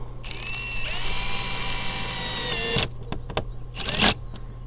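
A power drill run at slow speed on a plastic interior door handle part of a Lexus RX350, giving a close, even whine for nearly three seconds and then a few short bursts.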